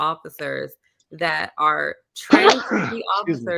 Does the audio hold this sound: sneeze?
yes